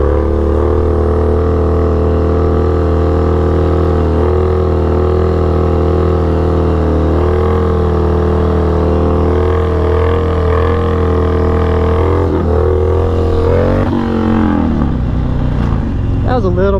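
Harley FXDX motorcycle engine running loud and steady for a long stretch during wheelie practice, with a rough wavering rumble and pitch shifts near the end as throttle changes.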